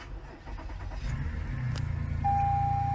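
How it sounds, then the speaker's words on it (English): A 2020 Toyota Highlander with a low battery cranks and catches, its engine noise rising into a steady close idle with a thin whine over it. "our car battery is a little low here, but we're going to try to start it anyway"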